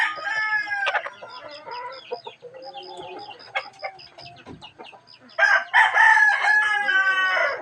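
Chickens cluck steadily around a coop while a rooster crows loudly and repeatedly near the end, with overlapping calls filling the whole stretch and no talk.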